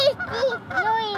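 Wild geese honk close by in a quick run of several nasal, rising calls, loud and clear, with a few overlapping cries.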